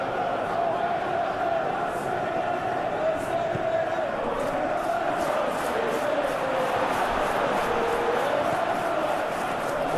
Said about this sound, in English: Well, the crowd clearly liked what they just saw.